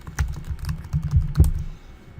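Someone types on a computer keyboard, a close run of quick irregular key clicks and taps over about two seconds, then stops.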